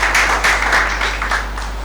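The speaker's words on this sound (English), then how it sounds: "Let's receive him with a round of applause." A university audience gives a short round of applause for a speaker stepping up to give welcome remarks, a brief burst of many clapping hands under a steady low hum, tapering off within two seconds.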